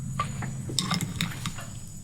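Sisig is mixed in a pan with a metal utensil, producing a few quick clinks and scrapes against the pan at an uneven rhythm, close and fairly soft.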